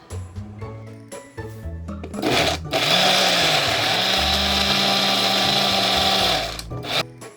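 An electric blender grinds garlic and onion for kimchi seasoning, a loud steady whirring that runs for about four seconds. Clattering and handling noises come before and after it, and nobody speaks.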